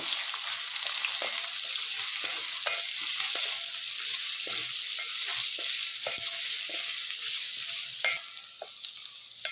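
Steady sizzling of onions frying in a pan, with intermittent scraping and stirring clicks throughout, continuous and close.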